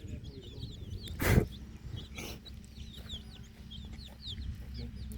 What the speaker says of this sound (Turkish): Civcivlerimiz bunlar.